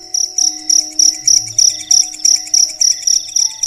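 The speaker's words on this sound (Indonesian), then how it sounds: "Suara jangkrik terasa makin keras." Crickets chirp at night in a loud, close, regular pulsing rhythm, each burst of shrill trills repeating about three times a second, with a thin steady tone beneath and no voices.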